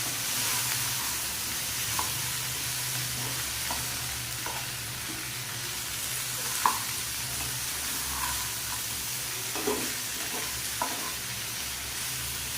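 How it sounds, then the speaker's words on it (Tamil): Mango pachadi with chilli powder and turmeric powder being stirred in a pan, a steady soft sizzle with scattered scraping clicks of the spoon, close and alone without talk. "மிளகாத்தூள், மஞ்சள்தூள் எல்லாம் நல்லா சேர்த்து ஒரு 2 நிமிஷம் போட்டு நல்லா ஃபுல்லாக அப்ளை ஆகிற மாதிரி அதை கலந்து விட்டுக்கோங்க"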